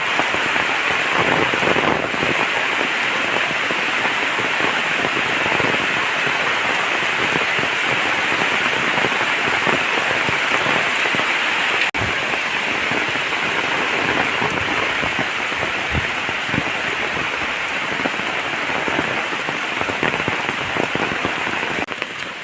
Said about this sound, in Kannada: ಮಳೆಲಂತೂ ವಿಡಿಯೋನೂ ಮಾಡೋಕ್ಕಾಗೋದಿಲ್ಲ ಫ್ರೆಂಡ್ಸ್ ಅಷ್ಟು ಮಳೆ